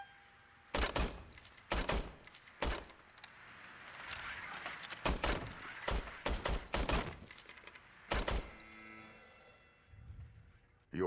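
A service weapon fired at a shooting range in the video game Detroit: about a dozen sharp, loud, close single shots at irregular intervals, some in quick pairs, with quieter range noise between.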